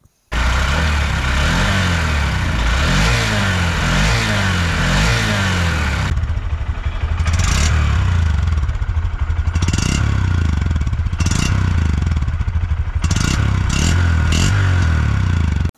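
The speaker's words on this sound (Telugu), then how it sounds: "ఇంజన్ నోట్ ఎలా ఉంది, ఎగ్జాస్ట్ నోట్ ఎలా ఉందో" A 2025 Honda SP125 motorcycle engine runs loud and close while riding, its exhaust throbbing and rising with throttle, then revving in short bursts over road rumble.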